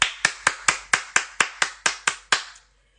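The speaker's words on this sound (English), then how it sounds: "I got to clap it up for myself." A woman claps her own hands about a dozen times in an even, brisk rhythm, each clap sharp and close, then stops, leaving silence.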